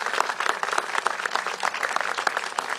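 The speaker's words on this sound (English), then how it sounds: "So let's please give her a big round of applause and welcome her up here." A crowd at a San Francisco civic gathering on antisemitism applauds as a city supervisor is welcomed up, with lively, dense clapping that stays close and continuous.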